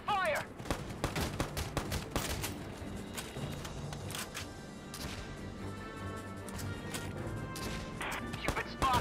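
Rapid bursts of gunfire and crashing impacts from a squad battle in the video game Valkyria Chronicles 4, sharp repeated shots scattered across the clip over background battle noise, with occasional voices.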